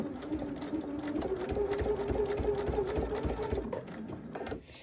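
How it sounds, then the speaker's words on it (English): A sewing machine top-stitches around the neckline of a dress made from a Dollar Tree towel. The needle chatters in a rapid, close, steady run that slows and stops at the end. "So we are back at the machine and we're going to just top stitch around that neckline."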